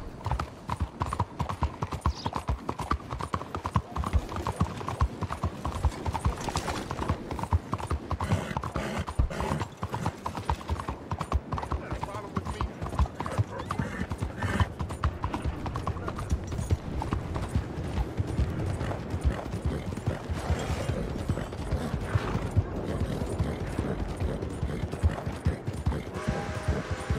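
Horse hooves clip-clop in a steady, continuous rhythm throughout in the Red Dead Online video game, close and prominent, with an occasional neigh and faint mechanical clinks of tack.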